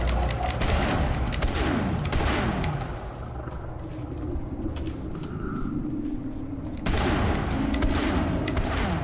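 Ship weapons firing in the space combat game Elite Dangerous, rapid continuous bursts of gunfire with dull thuds and booms, loud and close throughout.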